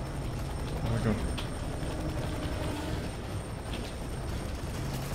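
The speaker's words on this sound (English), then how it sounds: "Chopper!" A helicopter in the video game F.E.A.R. 3 makes a continuous low rotor rumble that fills the whole stretch at an even level, mixed with faint voices and game noise.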